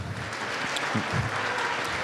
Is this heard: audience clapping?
yes